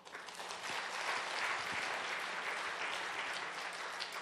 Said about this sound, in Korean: 박수는 그냥 알아서 적당히 쳐주시면 좋을 것 같습니다